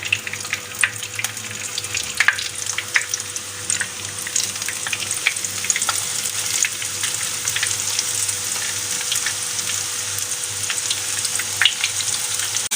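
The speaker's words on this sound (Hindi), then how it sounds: "अब हम इसे फ्राई करेंगे" Potato finger chips deep-frying in hot oil, a steady dense crackling sizzle that holds close and constant throughout, with faint watery bubbling beneath.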